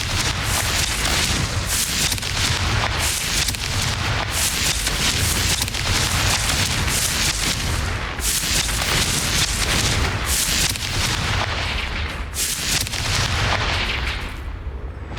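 Continuous loud explosive blasts and bursts from Confringo spells in the video game Hogwarts Legacy, dense booming fire sustained throughout with no talking.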